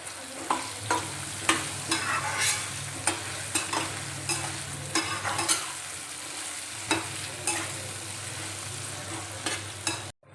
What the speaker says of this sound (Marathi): एक चमचा मी जिरे पावडर घातले हे छान परतून घेते